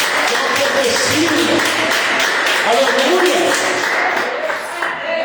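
A church congregation claps and cheers in a loud, sustained burst, with many hands and raised voices blending together; a voice calls out amid the applause, which thins slightly toward the end.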